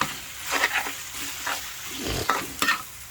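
Beef being stir-fried for Thai panang curry, a gentle sizzle broken by several sharp spatula scrapes and clacks against the pan.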